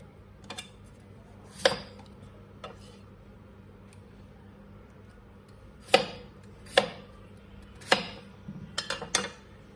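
A knife chops vegetables into large pieces on a cutting board for homemade chicken soup, sparse sharp thuds scattered across a quiet kitchen, some single, some in quick clusters of two or three.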